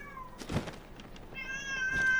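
A cat in the video game Legend of Zelda: Tears of the Kingdom gives a couple of short meows, mixed with soft game effects and a steady synthetic tone, moderately quiet throughout.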